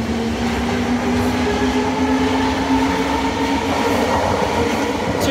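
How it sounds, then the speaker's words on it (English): A London Underground train pulls out of the station, a steady loud rumble with a rising motor tone, continuous and close throughout with no talk. "Oh, that sounds like it's leaving."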